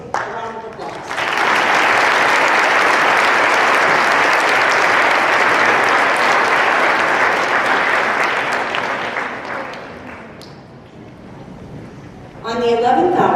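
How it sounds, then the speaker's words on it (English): An audience at a middle school Veterans Day program gives a long, loud round of applause for veterans and service members, swelling quickly, holding steady, then tapering off before a voice resumes at the end. "Give these folks a round of applause."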